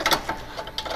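A 13/16 wrench ratchets quickly on a front shock absorber nut of a Mazda Miata MX-5 spec race car, several sharp clicking bursts close up over a second, no talking.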